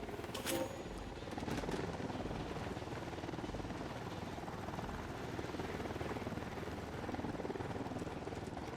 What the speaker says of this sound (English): We need to worry about that helicopter.